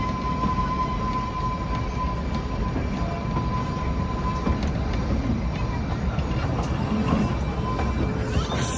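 The Shimla toy train runs through Summer Hill station with a steady, continuous rumble and rattle of wheels and carriages, heard close throughout.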